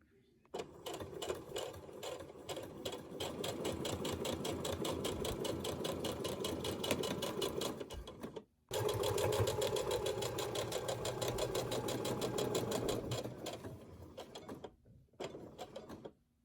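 A sewing machine stitches a pocket for a wire insert in a fabric mask, running in a steady, fast mechanical chatter up close, with two brief stops before it resumes and winds down in short bursts.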